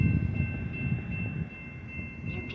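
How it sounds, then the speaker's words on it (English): A Metra Union Pacific Northwest commuter train bound for McHenry pulls into Barrington station, a steady low rumble of rolling cars carrying a thin sustained squeal above it, close and even. "643 to McHenry is now arriving."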